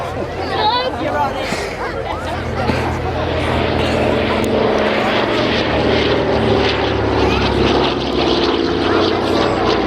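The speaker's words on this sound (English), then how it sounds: "Here comes the DC-3 under the trees." A Douglas DC-3 Dakota twin-engine propeller airliner passes low overhead at an airshow, its big radial engines producing a loud, steady, throbbing rumble throughout, with crowd chatter and voices underneath.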